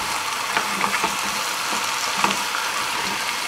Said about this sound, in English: I'm going to scrape the bottom, make sure that the vegetables do not burn